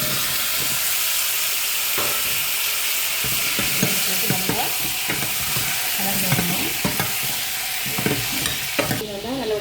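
Spinach is stirred into vegetables frying in a pan for a vegetarian curry, producing a constant sizzling hiss with repeated scraping stirs and clatter of the utensil against the pan, close and loud, with no talk.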